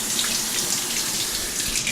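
Tap water runs steadily into a kitchen sink as fresh basil leaves get a quick rinse, a close, continuous splashing rush with no pauses.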